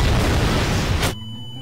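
A meteor strikes in Garry's Mod: a single loud, deep boom with a rumbling burst of noise that cuts off abruptly, followed by a quiet electronic hum.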